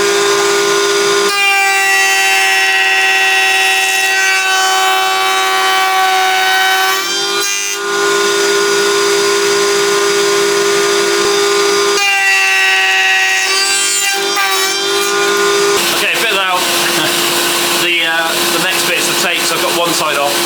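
A router on a table cuts tenons into rough-sawn wooden planks for a National beehive build, giving a loud, steady whining hum that runs almost continuously with brief pauses and pitch shifts as the wood feeds through.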